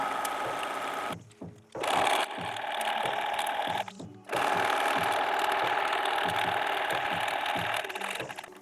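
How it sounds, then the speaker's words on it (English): A sewing machine stitches a fabric seam for a hair scrunchie in steady motorized bursts, pausing briefly twice before running continuously and close. "then you stitch your seam."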